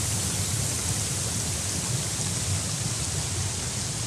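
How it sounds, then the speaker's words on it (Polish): Steady, dense rush of falling water from a waterfall in the video game Syberia: The World Before, continuous and even throughout with no voices. "O, tam kolejny wodospad, patrzcie."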